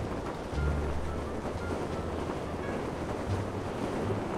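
Steady rushing wind while skydiving in the video game GTA 5, a dense, continuous roar with low buffeting surges and no one talking.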